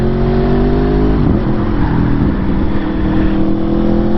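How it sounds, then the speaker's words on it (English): A 2021 Aprilia Tuono motorcycle engine on the road, loud and steady from the riding position, with a brief pitch drop and blip around the middle as the quick shifter downshifts. "Quick shifter, downshift."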